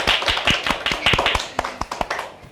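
Audience clapping on a children's entertainment show, a short run of sharp, close individual claps spaced unevenly rather than a full sustained applause.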